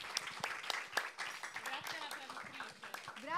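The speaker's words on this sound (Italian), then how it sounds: "vi chiedo un applauso per le nostre due relatrici" Scattered audience clapping for two speakers at a climate camp talk on oil, faint and uneven, with voices murmuring through it.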